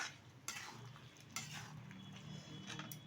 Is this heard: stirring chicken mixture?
yes